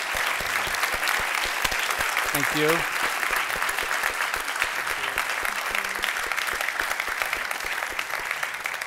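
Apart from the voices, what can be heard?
audience applause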